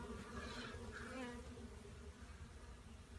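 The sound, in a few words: bees buzzing at a beehive removal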